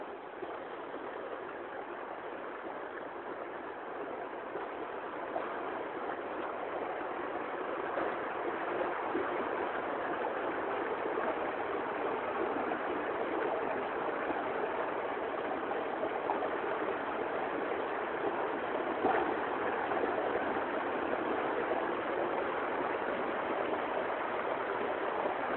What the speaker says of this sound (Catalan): El soroll de l'aigua dels rius de muntanya.